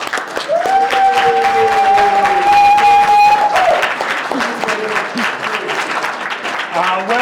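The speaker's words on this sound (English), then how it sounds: "Give him a round of applause." Applause from a seminar audience at a trading expo greeting guest speaker Timothy Sykes, steady clapping throughout with a long sustained whistle-like tone over the first few seconds and scattered voices.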